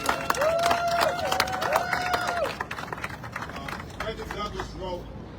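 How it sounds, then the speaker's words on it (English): Applause and cheering rise from the audience at a community rally of district leaders and board members, a steady clatter of clapping with scattered voices. A sustained whistle-like tone rings through the first half before the applause thins out. "I want to give a round of applause to Sandy Nurse."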